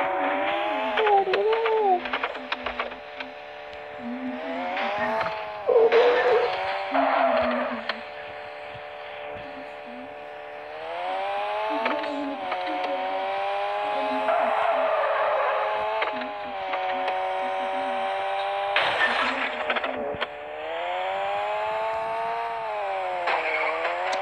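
Engines revving with tires skidding and squealing in an online car racing video game, the sustained engine whine rising and falling for the full stretch, loud and close, with bursts of skid noise along the way.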